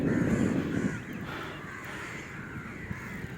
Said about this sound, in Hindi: कौओं की काँव काँव का आनंद लीजिए।